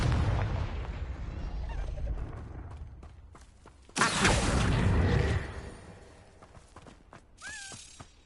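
Confringo fire spell in Hogwarts Legacy: a roaring fiery blast bursts in after a few scattered cracks, holds loudly for over a second, then fades out, followed by a brief whooshing sweep.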